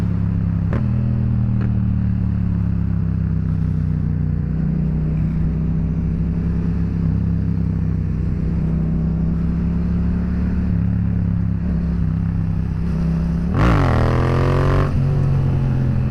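Two Yamaha FZ motorcycles ride through Friday-night traffic, their engines droning steadily and loud throughout before a sharp rev and surge of acceleration near the end.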